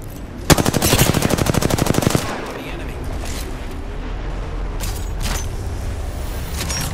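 Automatic gunfire in Apex Legends: a close, rapid burst of evenly spaced shots lasting under two seconds, followed by a few scattered distant shots over steady game ambience.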